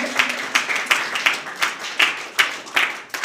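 Audience applause at a student pass-out ceremony in Bairiya, thinning into a looser clapping with distinct, regularly spaced loud claps over a softer background patter.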